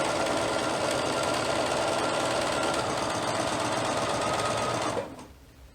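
A sewing machine runs continuously while stitching a pressed dress hem, giving a close, loud, steady rapid whir for about five seconds before it stops abruptly. A quiet room tone is left after it stops.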